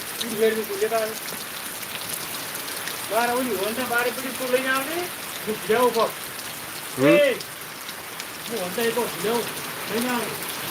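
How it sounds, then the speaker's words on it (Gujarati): Steady heavy rain in Gujarat patters in the background while a person speaks over it in several bursts. "વરસાદ બહુ આવેલો છે"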